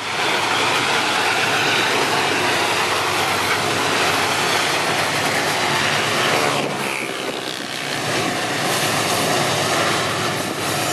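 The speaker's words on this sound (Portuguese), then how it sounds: "o helper aí com a locomotiva C30 e a C44i no apoio aí na composição" MRS freight train climbing a grade with distributed power, a C30 and a C44i helper locomotive pushing, giving a loud, steady, close engine roar and rumble that holds without a break.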